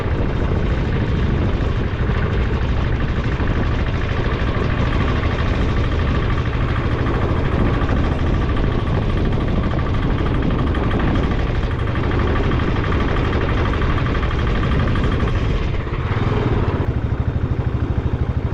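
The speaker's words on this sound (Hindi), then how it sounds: "पहाड़ी में चढ़ते जा रहे हैं, चढ़ते जा रहे हैं, चढ़ते जा रहे हैं अपनी धन्नों के साथ, हमारी बुलेट" A Royal Enfield Bullet motorcycle engine labouring up a hill road, a loud continuous thumping drone with rushing wind, held steady throughout with a brief dip near the end and no talking.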